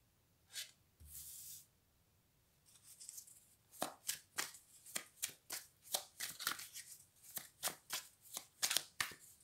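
Tarot cards being shuffled and drawn at close range: a brief riffle burst, then a rapid series of sharp crisp card snaps and slaps in an uneven rhythm, with no voices.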